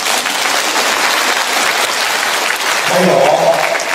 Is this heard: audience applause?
yes